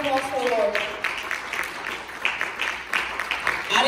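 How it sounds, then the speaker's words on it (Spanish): Church congregation claps in scattered bursts across a large room, while a voice speaks at the start. "Give a round of applause to the Lord"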